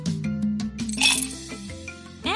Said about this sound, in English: Drop in some ice cubes.